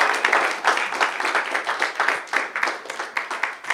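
A worship audience at a church healing seminar claps and applauds in acclaim of the Lord, with steady, fairly rhythmic clapping that stays close and loud throughout.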